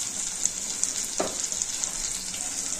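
Tomato chutney cooking down in oil in a pan, a steady bright sizzle and bubbling with a single short stir or scrape midway.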